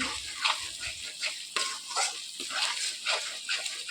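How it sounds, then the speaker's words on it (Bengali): Spice paste for mutton curry scrapes and sizzles in a hot pan, a steady frying hiss broken by repeated stirring strokes at a close, moderate level, with no talking. "মশলার পেস্টটা দিয়ে একটু কষিয়ে নিয়েছি"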